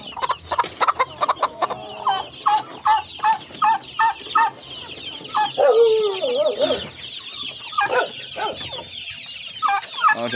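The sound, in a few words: Rhode Island Red chickens clucking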